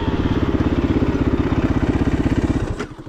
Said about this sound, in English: By the noise of a loud two-stroke and a loud four-stroke.